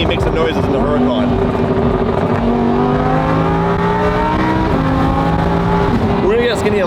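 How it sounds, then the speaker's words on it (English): A Lamborghini Huracan sports car engine revs loudly nearby, its pitch climbing and holding in a steady, continuous roar. "let Skinny make some noises in the Huracan"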